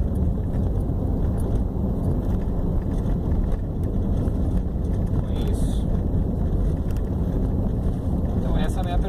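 Strong wind buffets a 2014 Nissan Versa 1.6 SL with a manual gearbox as it drives, producing a constant loud, broadband rush of wind and road noise that runs without a break from start to finish.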